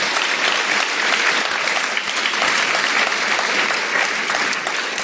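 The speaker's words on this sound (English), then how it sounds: "Please give another round of applause." A conference audience at a security talk gives a steady, dense round of applause, loud and close, sustained for several seconds without pause.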